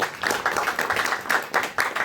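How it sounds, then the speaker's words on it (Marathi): Applause at a press conference for a Marathi film, with a group clapping in uneven bursts that swell and dip over about two seconds in a moderately sized room. "रविकांत म्हणजेच आमचे रवी प्रकाश यांच्यासाठी एकदा जोरात टाळ्या वाजवा"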